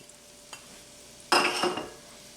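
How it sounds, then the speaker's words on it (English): Onion, celery and carrot hit melted butter over medium heat in a pot for a smoked turkey pot pie soup, giving a sudden loud sizzle and stirring scrape that fades over about a second, after a faint earlier clink; no talk. "we're going to saute and soften up the onion"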